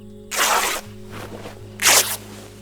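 Crafting rags in the video game DayZ: two close, loud bursts of fabric ripping and tearing, separated by a short pause and a few softer rustles, over a low steady background hum.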